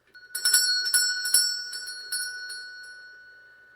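A small hand bell rings in a quick series of bright, clear jingles, about seven strokes, then the tone rings out and fades.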